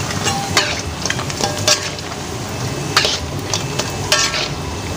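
Continuous crackling sizzle of food frying in hot oil, with occasional sharper pops and stirring scrapes throughout.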